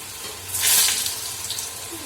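Pieces of chhena (cottage cheese) dropped into hot oil give a sudden close sizzling hiss that swells around the middle, then settles into a softer crackle with small spatters.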